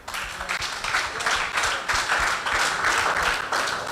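Studio audience clapping for a caller during a Nigerian call-in radio outside broadcast, a steady run of hand claps lasting several seconds, moderately loud with busy crowd noise underneath.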